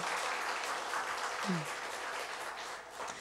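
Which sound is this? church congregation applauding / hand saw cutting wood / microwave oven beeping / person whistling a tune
church congregation applauding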